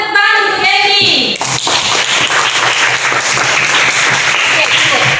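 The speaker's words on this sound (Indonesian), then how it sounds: "semua tepuk tangan untuk Andy" A primary school class in West Southwest Maluku claps for a student after his answer, a dense burst of close applause that begins abruptly and carries on steadily, with children's voices mixed in.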